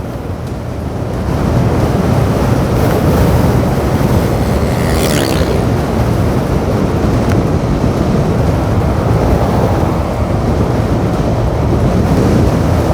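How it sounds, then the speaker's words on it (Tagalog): Steady, loud wind roar buffets the microphone on an asphalt road in Maasim, Sarangani, a constant rushing noise with no voices. "Lakas ang hangin."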